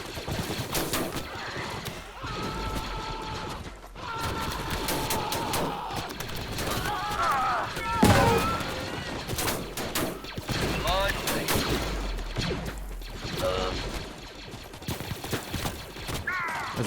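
Blaster fire in a Star Wars: Galaxy at War clone base battle, rapid overlapping volleys and bursts crackling continuously with explosions, under intermittent talk from a player.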